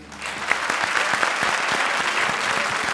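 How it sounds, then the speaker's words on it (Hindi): Loud, sustained audience applause from a studio crowd on a comedy show, dense steady clapping that lasts throughout. "एक बार फिर जोरदार तालियां"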